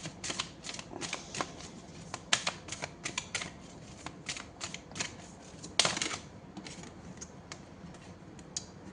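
Tarot cards drawn and handled on a table, a close, quiet series of irregular flicks, taps and shuffling snaps, with one sharper slap near the end.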